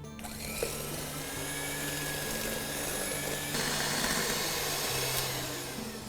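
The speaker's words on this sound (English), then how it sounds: "And now we want to beat this till it's nice and fluffy, so that should take around a minute or 2." An electric hand mixer whirs steadily as it beats eggs and castor sugar in a bowl until fluffy, a continuous close motor drone that shifts pitch slightly partway through.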